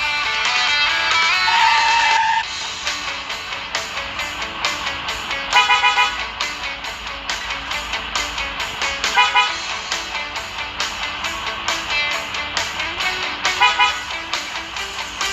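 Short car horn toots sound in the Dr Driving mobile driving game, several brief honks spaced over continuous game engine and traffic sounds.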